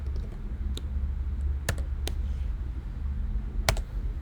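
Quiet typing on a computer keyboard while entering a command, with a few sharp scattered key clicks spread over a low steady background hum.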